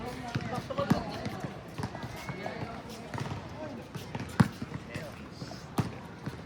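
A basketball bounces repeatedly on a court during a game in Singapore, the thuds irregular and moderately loud amid constant crowd chatter, sneaker squeaks and other court noise.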